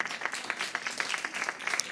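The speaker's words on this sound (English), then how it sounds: "can we just give them a clap?" An audience at a live HEALcare event applauds, many hands clapping together in a steady dense patter that fills the room throughout.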